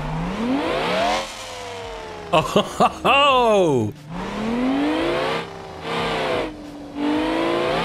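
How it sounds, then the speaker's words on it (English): A high-pitched V12 racing engine in BeamNG revs up and down repeatedly with rising whines, game-like and synthetic, with a voice exclaiming briefly partway through. "this is now where we change over our good old engine sounds"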